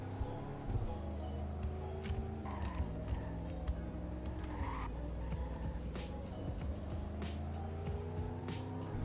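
An unreleased 1969 Dodge Coronet drives in Greenville, Wisconsin, its engine droning close and steady, with faint tire noise and small clicks over the run.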